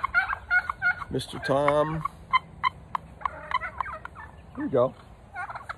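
A pet turkey gobbles loudly and close by in a rapid, rattling burst, followed by softer clucks and a second short gobble, while a person speaks briefly between the calls.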